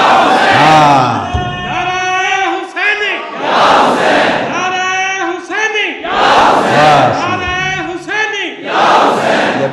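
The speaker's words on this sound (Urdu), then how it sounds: "ایک نعرہ حسینی لگایا کرو، اور نعرے میں کہا کرو یا حسین۔" A large congregation at a religious lecture on Muharram chants the slogan Ya Husain in loud, repeated unison call-and-response waves, with a leader's voice cueing each round and the crowd roaring back.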